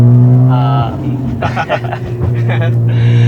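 Loud, throaty engine and exhaust roar from a Mazda RX-7, rising and falling as it revs, with a voice speaking over it.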